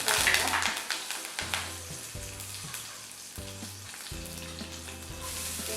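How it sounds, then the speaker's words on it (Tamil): Mustard seeds and curry leaves sizzle in hot oil, giving a steady frying hiss with a burst of crackle at the start. Intermittent low tones sound alongside, and a voice is faintly present. "இப்போ நம்ம எண்ணெய் காஞ்சிச்சு, கடுகு போட்டு கருவேப்பிலையும் போட்டுருவோம்."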